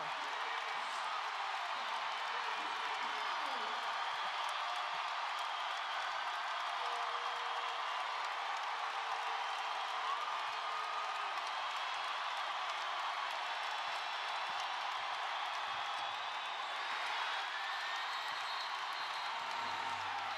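A women's college basketball arena crowd roars and applauds in a sustained, dense wall of cheering during Caitlin Clark's record-breaking night, steady and loud for the whole stretch with occasional whoops rising above the din.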